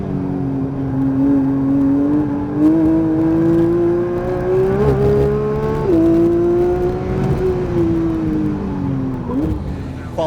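A Porsche 992 GT3 pulls hard on a race track, its engine revving up and shifting through gears in rising whines with brief drops between, heard steadily from onboard with no talk.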